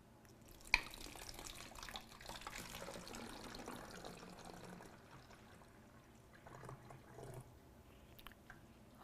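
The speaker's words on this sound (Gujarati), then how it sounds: "હું 1 કપ પાણી રેડું છું" A cup of water is poured into a bottle, a faint steady splashing trickle under quiet room noise, with a small knock near the start.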